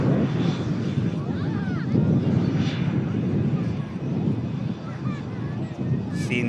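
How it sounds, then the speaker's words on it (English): Big orange EasyJet airliners taxiing toward the second runway at Manchester Airport give off a continuous engine rumble and whine, with light wind buffeting and faint voices underneath. "a couple of big orange aircraft on the way over to the second runway there as well now"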